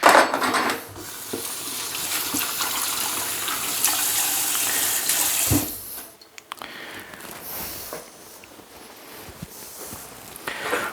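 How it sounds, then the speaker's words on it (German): Running tap water splashes steadily over hands being washed at a home kitchen sink while Maultaschen are prepared. The noisy gush is close, with a few faint clinks of dishes and a brief pause midway. "dann kann ich jetzt mal schön Hände waschen"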